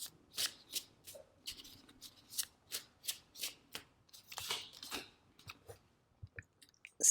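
A deck of tarot cards is shuffled by hand up close, a quiet regular series of crisp riffling bursts about every third of a second, with no talking.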